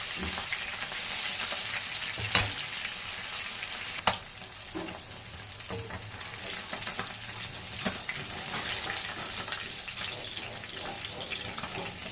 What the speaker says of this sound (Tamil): எடுத்துட்டு நம்ம குழம்பை தாளிச்சிடலாம்